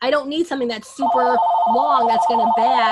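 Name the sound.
telephone ringing in the background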